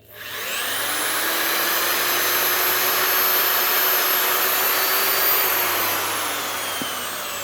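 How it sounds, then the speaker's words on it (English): A power drill bores vertically into a knife handle blank, a steady whirring drone that ramps up, holds loud and close for several seconds, then winds down. "Okay, now I'm drilling."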